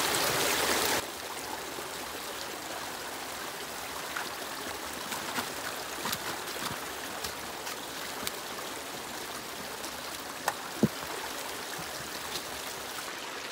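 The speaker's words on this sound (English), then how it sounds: "I don't know if you can hear the gravel tumbling down the pipe." Steady rushing creek water pouring through a culvert pipe, with occasional faint knocks and clicks of gravel tumbling along.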